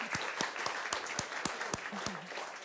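A small round of applause for a panel guest, a sparse, quiet scatter of individual claps in a steady rhythm, with a brief voice murmuring underneath.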